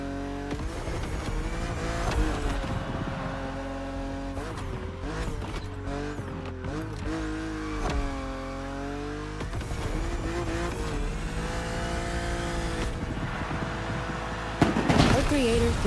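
A BMW car drives in the racing video game The Crew, its engine revving and shifting pitch steadily throughout while people talk over it.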